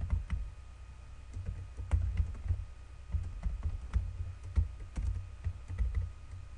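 Close computer keyboard typing and clicking while filling in a picture template, with irregular quick key taps in small clusters, fairly quiet and without speech.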